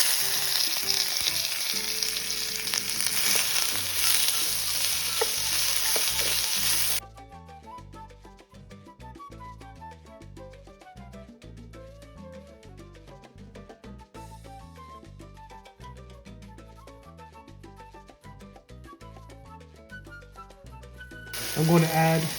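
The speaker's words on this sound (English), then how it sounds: "in a saute pan, I'm going to add some oil and then add my vegetables" Thinly sliced peppers and other vegetables sautéing in oil in a sauté pan for a Cuban papa rellena, a loud steady sizzle at first that drops to quieter frying under background music, then swells again near the end.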